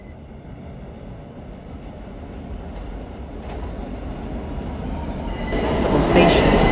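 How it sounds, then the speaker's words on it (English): R179 F express subway train bound for Jamaica–179th Street, a rumbling car interior that gradually builds in loudness with rail noise, wheel screech and clatter, under a recorded announcement voice. "This is a Jamaica 179th Street bound F Express train."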